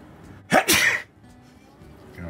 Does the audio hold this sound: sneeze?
yes